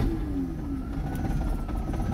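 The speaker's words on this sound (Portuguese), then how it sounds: "Dando partida no carro." A 1988 Chevrolet Monza 1.8 engine turns over and runs on a cold start, a steady close mechanical rumble with a faint rising whine and no talk.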